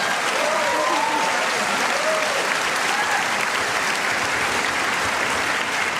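Steady, dense applause from a large high school graduation audience fills the whole stretch at an even, loud level, with a few faint voices underneath.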